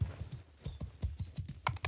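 Horses galloping in the medieval battle game Bannerlord, a quick irregular patter of many hoofbeats thudding close by, with no voices.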